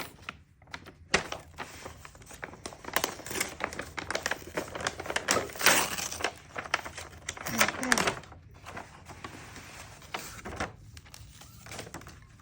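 Birthday presents being unwrapped, with rustling and tearing of wrapping paper in dense crackling bursts, loudest in the middle, while someone talks over it.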